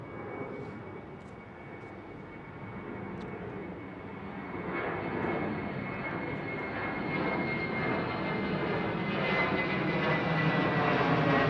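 An ANA Boeing 777 on runway 09R at London Heathrow, its jet engines a deep, broad roar that grows steadily louder and closer across the stretch, with no talking.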